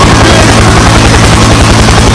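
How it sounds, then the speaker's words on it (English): A helicopter in the Fortnite video game roars loud and close, its rotor throbbing in a steady low pulsing beat throughout the short stretch with no voices. "Helicopter, helicopter."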